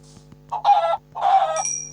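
Two bursts of chicken clucking from Minecraft with a rising squawk, slightly electronic, over a steady low hum and a faint high tone near the end.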